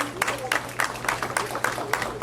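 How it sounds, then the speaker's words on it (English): Steady applause from a crowd, a dense wash of clapping with rhythmic bursts, fairly close and sustained throughout. "Let us give them a round of applause."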